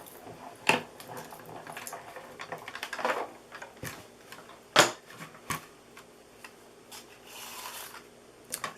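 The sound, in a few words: die-cutting and embossing machine running paper through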